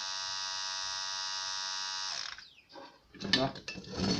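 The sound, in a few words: car electric fuel pump running with a bearing-like noise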